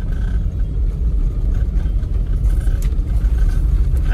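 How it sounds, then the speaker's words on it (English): A small snowplow fitted with tire chains rumbles past on a snowy road, a loud, close, continuous low drone with a faint rattling texture. "here comes a snowplow. A kind of a smaller one, not the big bad boys. You can hear they have chains on,"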